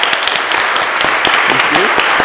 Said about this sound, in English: Let's give Stu a round of applause